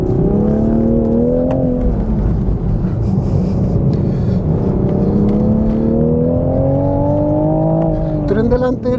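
A 2023 Toyota Supra with a manual gearbox revving hard, a loud close engine drone that climbs and falls steadily through the gears for several seconds, with a brief shift near the end.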